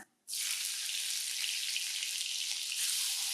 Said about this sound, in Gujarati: હવે ગેસ ધીમો કરીને આમાં જીરું ઉમેરવાનું સાથે સમારેલા લીલા મરચાં અને ટામેટા ઉમેરવાના